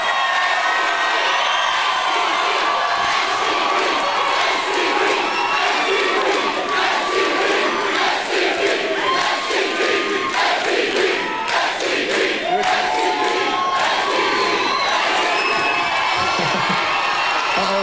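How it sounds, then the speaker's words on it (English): A rock concert crowd cheering and screaming, a loud, continuous roar of shouts, whoops and high screams that stays intense throughout with no pause. "some of the bands that you were fans of, that you were in the crowd screaming like this"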